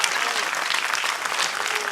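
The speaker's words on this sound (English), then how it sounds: "give God a big hand clap" Church congregation applauding with dense, continuous hand claps, loud and close throughout with no pauses.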